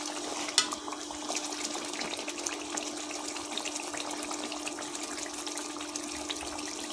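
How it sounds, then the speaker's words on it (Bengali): Spice masala for broiler chicken curry being stirred and fried in a pan gives a steady, close sizzling hiss with occasional light scraping taps. "ভালো করে নেড়ে মশলাগুলো কষিয়ে নেব"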